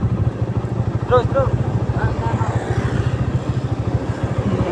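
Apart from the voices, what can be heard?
motorcycle riding into Sawarna tourist village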